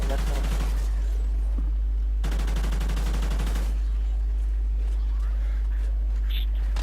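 Gunfire from Call of Duty Ghosts in Extinction mode: two dense bursts of rapid automatic shots, each lasting a second or more, then quieter game sounds with faint scattered noise.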